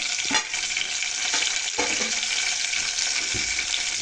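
Green chillies frying in a pan for spicy egg pulusu, a steady bright sizzle with occasional stirring scrapes and clinks, close and even throughout without speech.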